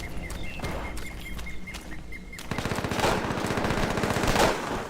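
Rapid video-game gunfire from the 2001 game Black & White, with dense bursts of automatic shots that grow louder and more continuous partway through, close and prominent.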